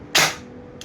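A single sharp shot from a G&G airsoft rifle, a loud pneumatic crack with a quick decaying hiss, then quiet and a faint click at the end.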